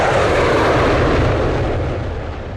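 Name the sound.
military aircraft flying on a test flight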